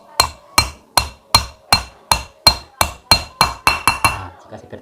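A rocker arm shaft being tapped into a Yamaha Jupiter Z cylinder head gives about a dozen sharp metallic knocks at a steady, slightly quickening pace. They are close and clear, with no talking.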